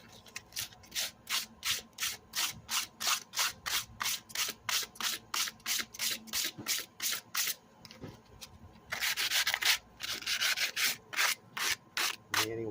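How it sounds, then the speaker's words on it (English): Rapid, rhythmic sanding strokes rasp back and forth on a hard part of an MTD mower, close and steady, with a brief denser burst of scrubbing midway. "Sanding it in there."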